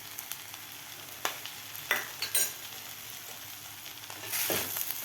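Sago upma with salt and coarsely crushed roasted peanuts is mixed in a pan over low heat, a soft sizzle under occasional scrapes and a louder stirring burst near the end, no voices.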